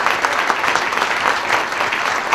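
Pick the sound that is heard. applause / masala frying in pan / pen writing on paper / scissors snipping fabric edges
applause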